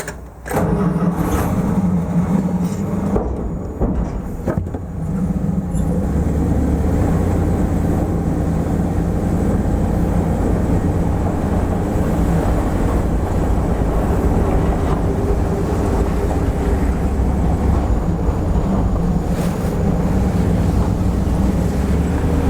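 A 1979 Dodge B100 short van's engine turns over and catches, then runs loud and steady as the van drives off, a dense constant drone with no talk.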